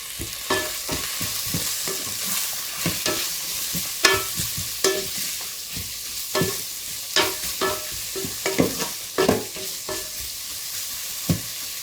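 Tomato sauce sizzles steadily in a rice cooker pot while a utensil scrapes and stirs, sharp clicks and knocks against the pot recurring irregularly, close up, with no talking.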